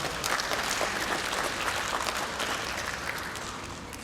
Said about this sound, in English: please give a big round of applause to all of them who collaborated in this program